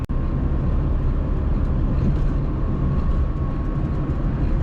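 Tata Nano small petrol engine in fourth gear at around 50–60 km/h, a steady loud droning hum with road rumble heard from inside the cabin, continuous and unbroken with no talk.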